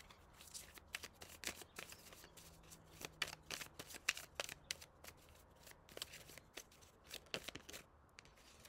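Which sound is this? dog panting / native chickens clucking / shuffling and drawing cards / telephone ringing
shuffling and drawing cards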